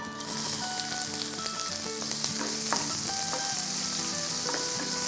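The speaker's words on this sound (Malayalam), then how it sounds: "നമ്മളിതിൻ്റെ കൂട്ടത്തിൽ നമ്മൾ സവാള ഒന്ന് വഴറ്റുക." Onions sauté in a pan for paneer pulao, a continuous close-up sizzle with occasional stirring scrapes and pops throughout.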